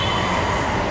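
A train rumbles along the tracks, a steady close rolling roar with wheel noise that fills the brief moment without pause or voices.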